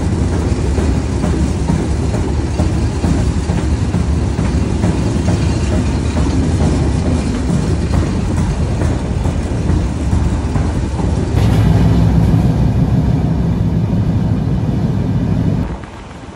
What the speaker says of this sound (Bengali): আমাদের ট্রেন এলিভেটেড ওয়েতে উঠে গেছে। আর প্রায় 36 কিলোমিটার ট্রেন কিন্তু এইভাবে ভাসমান যে রোড তার উপরে চলবে, আর প্রচুর পরিমাণে কিন্তু শব্দ হয় এটার উপরে।